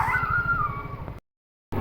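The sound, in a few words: dog whimpering, a blind stray dog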